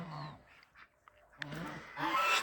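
Geese and ducks on snow in frosty winter weather give short nasal honks and calls close by, some spaced apart and others overlapping, with a louder cluster at the end.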